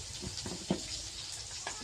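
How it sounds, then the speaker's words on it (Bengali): Potato pieces frying in hot oil in a kadai, a steady close sizzle with a few soft clacks of stirring and one sharper knock midway. "আমি আলুগুলো দিয়ে দিচ্ছি কড়াইতে"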